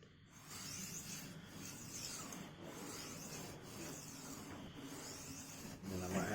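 Blade sharpening on a whetstone, a steady gritty rasping scrape with repeated strokes and brief pauses, moderately close and alone without talk.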